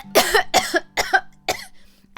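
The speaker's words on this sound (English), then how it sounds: "I have not been able to stop coughing on and off all day" Four harsh coughs in quick succession, close and loud, followed by a faint throaty exhale.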